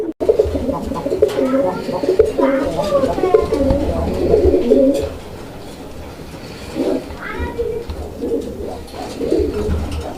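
Many Raj Golla pigeons cooing close by in overlapping low, throaty calls, loud at first, then quieter with intermittent bursts of cooing.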